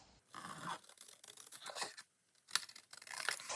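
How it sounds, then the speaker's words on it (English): Scissors cut through a paper envelope flap in short crisp bursts of slicing and crinkling, close and quiet with small pauses between cuts. "Let's cut a little bit inside those lines."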